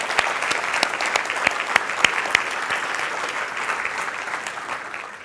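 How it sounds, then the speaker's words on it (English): Audience applause fills a tech conference hall, dense steady clapping with a few sharper claps standing out, slowly tapering off at the end. "let's give them a round of applause, because they are doing a lot of work"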